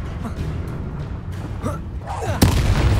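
A sharp blast from the Expulso spell in the game Hogwarts Legacy cracks out near the end, loud and sudden after a stretch of battle noise and voices.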